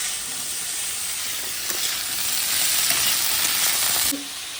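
Cauliflower pieces fry in a hot pan with salt, giving a loud, steady sizzle and hiss close by, with light stirring scrapes, cutting off abruptly near the end.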